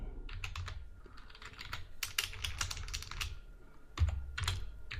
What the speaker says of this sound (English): So I'm going to type in ignore